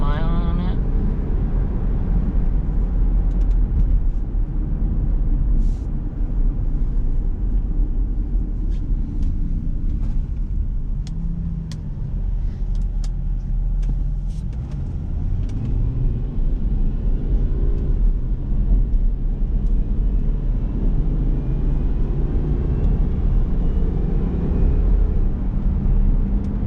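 Inside a 2004 Subaru Legacy Outback L.L.Bean Edition wagon with about 150,000 miles, a steady low road and engine rumble fills the cabin throughout, with light rattles and someone talking now and then.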